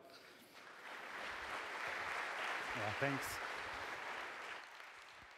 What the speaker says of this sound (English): So let's give a huge round of applause for Alexander.